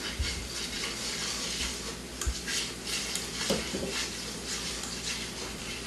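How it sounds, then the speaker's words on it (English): Beef bouillon and flour are whisked in a pot, a steady scraping and stirring with faint clinks of metal against the pot, soft and continuous throughout. "Whisk it in while you're stirring so you don't end up with lumps."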